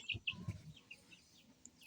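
A few short clucks and chirps from chicks nearby, quiet and scattered, with faint background noise between calls.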